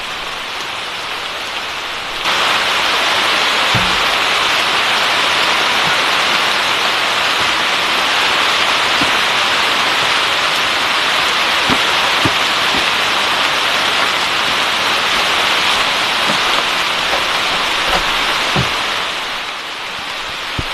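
Heavy rain pours down outside a wooden cabin during a violent storm, a loud, steady hiss that runs the whole time, with a few scattered drips and knocks.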